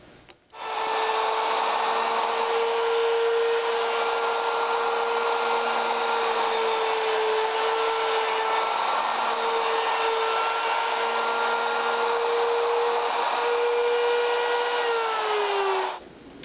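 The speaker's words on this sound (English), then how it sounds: "Make sure your router stops spinning, then remove it." A wood router cuts a mortise and tenon in a test piece, a loud continuous high-pitched whine holding steady for about fifteen seconds before winding down at the end.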